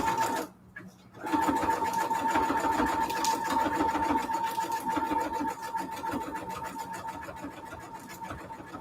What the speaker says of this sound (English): Let's get this piece sewn here, and then I'll have all of them sewn in.